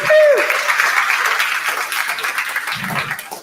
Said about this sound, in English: A big round of applause for our beautiful experts today.